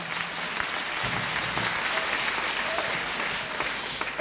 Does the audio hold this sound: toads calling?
no